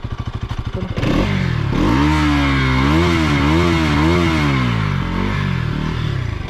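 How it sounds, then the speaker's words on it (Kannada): A Bajaj NS200 BS6 motorcycle putters at idle for a moment, then its exhaust swells into loud, close revving that rises and falls in several throttle blips before easing back. "ಮತ್ತು ಎಕ್ಸಾಸ್ಟ್ ನೋಟ್ ನೋಡಿ"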